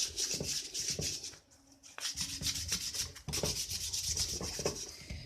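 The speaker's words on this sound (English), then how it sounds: "That's what it's like when you sand stone as well." Stone being sanded smooth by hand, a dusty job, produces close, steady rasping strokes in a repeated back-and-forth rhythm, with a brief quieter pause partway through.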